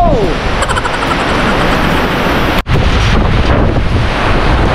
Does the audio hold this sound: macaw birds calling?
no